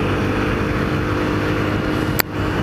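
A 125cc scooter engine fitted with a big bore kit idles loudly and evenly throughout, a steady drone, with one sharp click or tap near the end.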